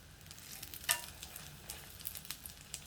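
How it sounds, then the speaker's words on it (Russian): Stuffed milk pancakes filled with minced meat fry in a pan with a soft, steady sizzle and small scattered crackles, quiet and close, with no talking. "Поэтому немного обжариваем с одной стороны"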